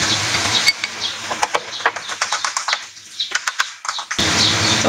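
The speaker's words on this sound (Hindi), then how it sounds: "तो इसे चम्मच से मैंने मिक्स करना है।" A spoon mixes dry chutney, making a rapid series of light, irregular scraping taps close by, set between stretches of steady background hiss.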